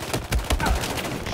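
Gunfire in a shooting video game: a quick burst of several rapid, punchy shots in close succession, loud and near.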